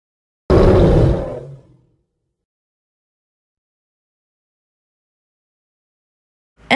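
A single loud roar like a lion's bursts out at once and trails off over about a second and a half, followed by silence.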